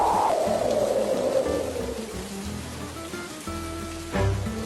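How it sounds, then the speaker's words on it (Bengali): A cartoon storm with hail over a village, a dense roar of rain with a falling whistling wind tone at the start and a heavier surge near the end, with no voices. "কেমন ঝড় হচ্ছে সাথে শিলাবৃষ্টি"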